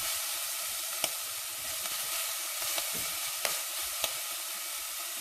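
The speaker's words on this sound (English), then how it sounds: "I'm just going to chuck in my garlic as well as my ginger. Let it all cook nicely." Garlic and ginger sizzle in a frying pan, a close, even, bright hiss that runs throughout, broken by a few faint clicks from the pan, with no talking.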